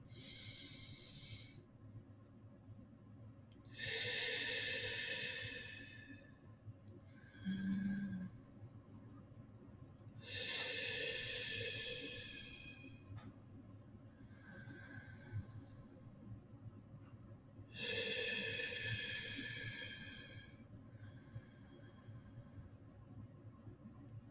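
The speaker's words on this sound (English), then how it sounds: "we're gonna go like 4 seconds up, hold it, then 4 seconds to exhale, 4 seconds to inhale, hold it, 4 seconds to exhale" Paced breathing, four-second inhale, a hold, then four-second exhale: three long, airy breath rushes spaced several seconds apart with quiet pauses between, close and clear.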